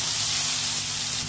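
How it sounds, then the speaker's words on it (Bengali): Soybean chunks, squeezed of water and salted, fry in oil in a wok, giving a steady, loud, broadband hiss that holds evenly throughout without pause. "এবার সোয়াবিনটা ভালো করে ভেজে নেব।"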